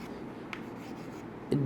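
Marker or chalk writing out notes on a classroom board, a soft continuous scratchy rub at moderate level, with a brief louder knock near the end.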